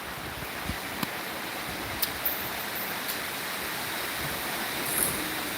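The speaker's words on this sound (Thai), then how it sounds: "โอ้ โอ้ลมด้วย" Steady broadband wind rushes outdoors as a rainstorm approaches, a continuous hiss with a few faint clicks and knocks scattered through it, no voices.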